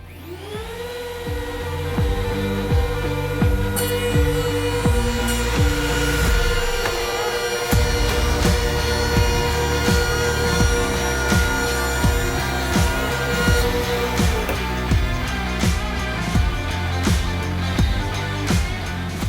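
A glue pot edgebander feeds a strip of edge banding up to 1 mil thick, its steady motor hum and whir running loud and continuous with rhythmic mechanical ticking throughout.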